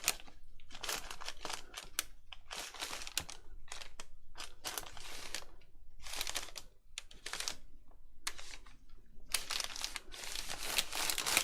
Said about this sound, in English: So press down as you go and press over all your foil.